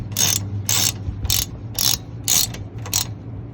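Hex key ratcheting as it tightens the brake caliper slider bolts on a 2005 Mini Cooper, six close, evenly spaced bursts of clicking over a low steady hum, with no talk.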